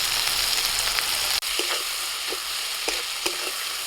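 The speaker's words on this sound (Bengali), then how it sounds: "পেঁয়াজের সাথে আদা রসুনটাকে একটু ভেজে নিয়েছি এখন দিয়ে দিচ্ছি টমেটো কুচি লবণ" Chopped tomato sizzling in a pan with onion, ginger and garlic, a steady broadband frying hiss with a few soft stirring clicks and one brief dip partway through, no voices.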